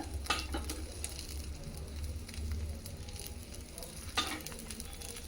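A leftover-rice dosa cooks on a pan over a low flame, giving a steady, soft sizzle with a few brief crackles and a low background hum throughout.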